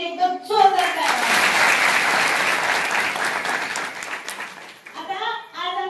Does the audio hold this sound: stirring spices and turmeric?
no